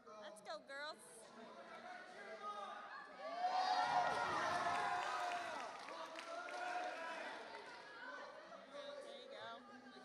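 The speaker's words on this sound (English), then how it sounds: "Keep cheering for your team." Girls' teams at a boot camp cheer and shout together in a busy crowd, with a swell of loud overlapping voices midway, then steady chatter and calls continuing around.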